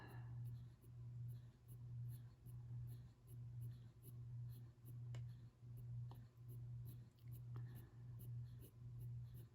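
Colored pencil drawing skinny, light lines on paper, a soft scratchy stroking repeated in a steady rhythm of short even strokes, close and quiet.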